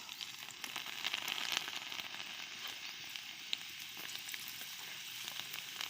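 Chopped garlic pieces in a hot oil tempering with cumin and turmeric give a soft, steady sizzle with light crackles and scattered pops, fairly quiet and unbroken.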